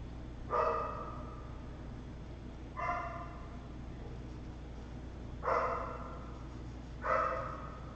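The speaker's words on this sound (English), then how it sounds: "I hear dogs." Dogs bark somewhere outside a room where someone is painting, four separate barks spaced a few seconds apart, distant and faint over a quiet background hum, with no talking.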